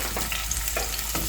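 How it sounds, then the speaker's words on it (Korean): Carrots and other vegetables stir-frying in hot oil in a fresh pan, a steady close sizzle with a few brief scraping stirs over about a second. "이제 새로운 그릇으로 다시 나머지 야채를 볶을 거예요."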